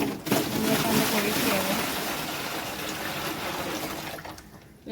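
Water poured from a bucket into a fish tank makes a steady, fairly loud splashing gush for about four seconds, then stops abruptly.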